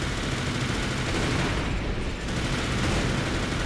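Continuous dense machine gun fire from a mech in Armored Core for Answer, a loud, unbroken roar of rapid shots with almost no gaps, heard alone without talking.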